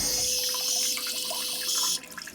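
Water sprays steadily from a small bidet toilet in a compact Tokyo apartment bathroom, a close hissing rush lasting about two seconds before cutting off abruptly.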